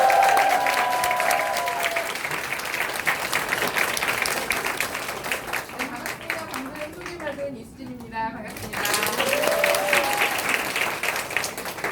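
An audience at a Nu Skin business lecture applauds to welcome the lecturer, a steady wash of clapping that runs throughout, while a voice briefly introduces herself over it and a short lull falls near the end.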